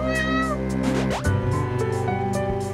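Cats in the video game A Space For The Unbound meow in two or three clear, drawn-out calls over steady game music, with no talking.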